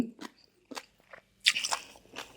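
Crunchy bites into crisp angel-wing jellyfish served as a seafood snack, several sharp close crunches with brief pauses between them and no talking.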